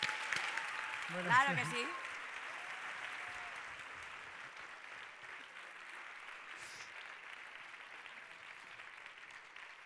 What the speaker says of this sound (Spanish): Pues le damos un fuerte aplauso a Álvaro